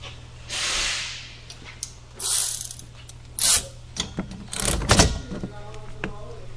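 A hand ratchet clicks in several short bursts of quick pawl ticks while loosening the wiper arm assembly on a Genesis GV80, close up, with brief mechanical clunks between the runs.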